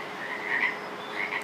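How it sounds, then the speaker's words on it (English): A pet frog croaks in a few soft, close calls, with two brief rising bursts spread over a quiet indoor background. "this is my frog"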